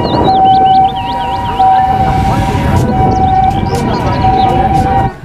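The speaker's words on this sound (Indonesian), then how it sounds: "ini mobil ambulans, teman." A toy ambulance siren wails in a rapid warbling pattern alongside a steady electronic tone, loud and close, with a voice talking over it.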